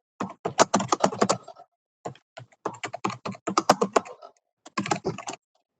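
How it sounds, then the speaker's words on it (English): Someone types on a computer keyboard during an online community board committee meeting, close and clear, with quick bursts of keystrokes separated by short pauses. "somebody's typing"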